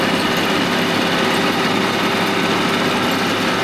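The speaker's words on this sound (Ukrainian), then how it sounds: "Трактор там навантаження не сильне." A Japanese mini tractor engine runs steadily and loudly under strain while tilling in third gear, a constant rumbling drone with no pauses.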